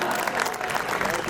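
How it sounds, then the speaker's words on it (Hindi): An audience claps steadily in a dense, continuous wash of applause at a Hindi comedy poetry gathering, with a voice faintly mixed in. "ताली बजाओ भाई जहां अच्छा लगा यार।"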